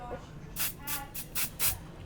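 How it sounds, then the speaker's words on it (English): Five short hissing bursts of spray adhesive in quick succession, each about a fifth of a second, close and fairly loud, with soft background noise between them. "just spray some on,"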